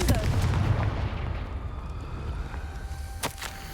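A Confringo fire spell blasting in Hogwarts Legacy, heard as a loud booming burst at the start that decays into a rumbling tail, with a couple of sharp cracks near the end.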